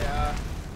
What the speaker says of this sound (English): I'm firing my my RPGs